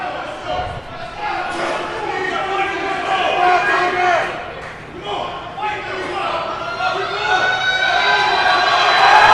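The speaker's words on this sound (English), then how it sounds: "you can hear the crowd getting behind him here" Crowd at America's Strongest Man 2021 (105 kg class) roaring and cheering a strongman grinding through a max deadlift, loud and sustained, mixed with an announcer's commentary.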